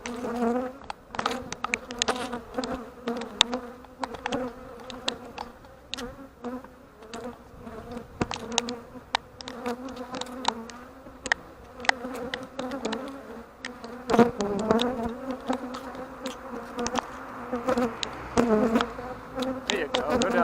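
A bee swarm being removed gives a constant close buzzing drone, with many individual bees flying past and sharp bumps and knocks from the handling.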